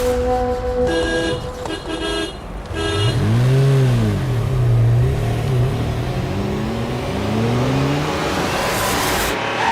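A car out on the road, horn tooting a few times before the engine revs up and down in swelling, loud, close passes; no one speaks.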